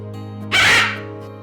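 A pet bird at a vet clinic squawks once, a single loud harsh burst lasting under half a second over a steady background hum.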